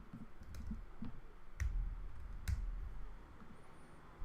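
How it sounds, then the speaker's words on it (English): A password typed on a computer keyboard, a handful of soft, scattered key clicks with uneven gaps, close and quiet in a still room. "And let's type in a password."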